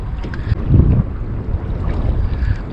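Strong wind buffets a fishing boat out on the water, a steady low roar with heavier gusts swelling through the middle, loud and continuous with no talking.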